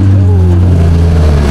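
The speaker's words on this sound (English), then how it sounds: "Oh, we got a nice-ass GTR." A Nissan GTR at a street car meet in the Chicago suburbs gives a loud, close, sustained engine drone whose pitch sags slightly over a second and a half, with no clear rev spike.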